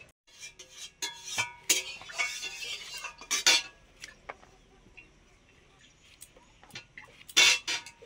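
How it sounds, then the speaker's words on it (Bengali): A knife cuts through washed okra on a board, giving irregular close taps and crisp slicing clicks, clustered in bursts with quiet gaps between them. "ঢেঁড়স তো আমরা সবসময় কাটার আগেই ধুয়ে নিই, ধুয়ে নিয়ে এসে কেটে নিচ্ছি"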